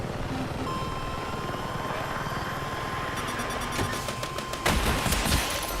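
Rockets fire from an attack helicopter in the Battlefield video game, a steady loud rumble of rotor and gunfire with a burst of sharp blasts near the end.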